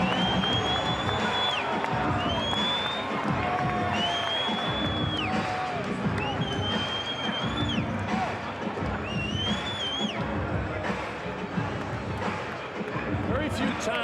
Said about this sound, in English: Very few times, Dave, have I seen the entire crowd on its feet in an arena for the introduction to fighters.